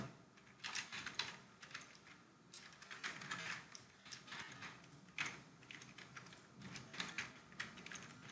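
Fingers type on a computer keyboard in quick clusters of light clicky keystrokes with short pauses, close and fairly quiet, with no speech.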